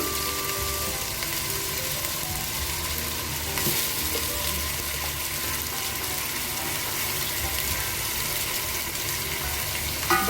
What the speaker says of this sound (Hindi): गोश्त को हम 5 से 7 मिनट तक जरूर भूनेंगे